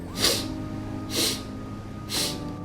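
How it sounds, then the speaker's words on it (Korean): Three slow, breathy nasal snorts from a dog or cat repeat at even intervals about a second apart, close and fairly soft. "아이들이 이렇게 숨소리가 이제 색 하고 지나가는 경우들이 있어요"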